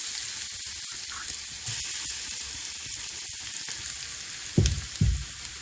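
Crushed garlic fries in hot oil for a tomato garlic chutney, making a steady close sizzle throughout, with a couple of louder spits and clatters near the end.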